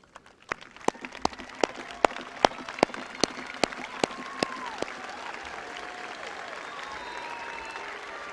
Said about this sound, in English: Would you please stand and let's give them a round of applause.